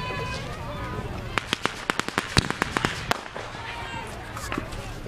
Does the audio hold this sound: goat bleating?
no